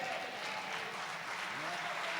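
A church congregation applauding during a Spanish-language sermon, a dense, continuous roar of many hands clapping close and loud throughout.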